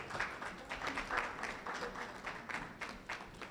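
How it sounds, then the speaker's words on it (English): An audience at a stakeholder consultation applauds to welcome a speaker, a steady, moderately faint wash of clapping that goes on throughout with no talk over it. "Shall we welcome her with a big round of applause?"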